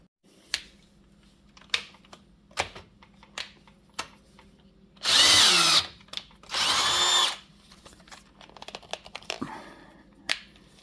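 A cordless Bosch power driver whirs in two short bursts of about a second each, close by, with scattered clicks and handling knocks before and after and no talking.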